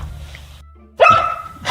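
A single short dog bark from a pet dog in The Sims 4 life-simulation game, loud and close, following a quieter low hum.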